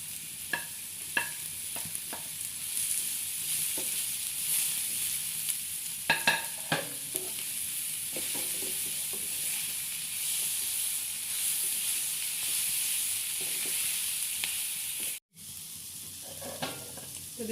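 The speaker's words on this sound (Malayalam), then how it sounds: "അതിലേക്ക് ഒരു സവാള അരിഞ്ഞിട്ടത് ഇടാം കേട്ടോ. അത് നന്നായിട്ട് വഴറ്റിയെടുക്കുക." Sliced onion sautés in a frying pan with a constant bright sizzle, broken by scattered clicks and scrapes of stirring. The sound cuts out briefly near the end, with no voices.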